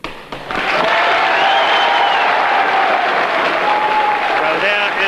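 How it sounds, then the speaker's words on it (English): A crowd at a 1959 British general election count in Cheltenham breaks into sustained loud applause for a returned Conservative member, with a voice talking over the clapping. "Well, there is the applause."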